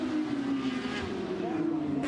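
A Porsche Cup race car in a 2018 Porsche Cup Australia race spins on the final lap, its engine a loud, steady, close drone that dips slightly in pitch through the slide.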